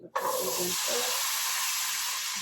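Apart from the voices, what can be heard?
chickpeas sizzling in hot pan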